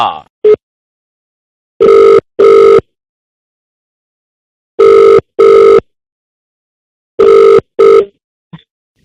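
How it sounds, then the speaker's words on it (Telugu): A telephone rings on an outgoing prank call: three pairs of loud, clean double rings with silent gaps between them, close and clear, and no talk. "let's call Simha"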